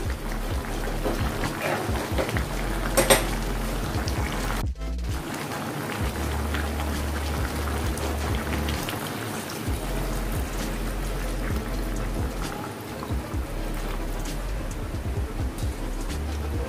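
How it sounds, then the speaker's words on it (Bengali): Hot water pours from a bowl into a pot of chicken cooking without oil, making a steady trickling, splashing stream close by, with a brief sharp clatter partway through and a low hum underneath. "আমি এতে পরিমাণ মতো জল দিয়ে দিলাম।"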